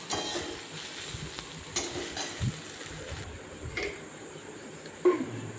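Sesame seeds being stirred and dry-fried in a pan, giving a steady soft sizzle with scraping stir strokes and occasional light knocks against the pan, close and alone without talk.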